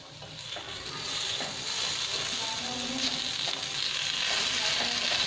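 A fasting tikki cooks in a pan with very little oil, crackling in a soft, continuous sizzle that swells slightly as it goes, with faint scraping and stirring sounds close by.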